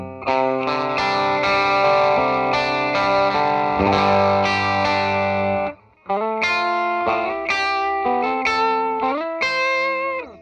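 Heavily effected electric guitar through a pedalboard with distortion and chorus, a pick scraped across the strings ripping in long sweeping swells, with a brief drop before resuming loudly.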